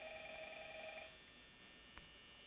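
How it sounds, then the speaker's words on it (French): A telephone rings in the Five Nights at Freddy's video game, a steady electronic tone that stops about halfway through, followed by quiet game ambience and one brief click. "ah, le téléphone"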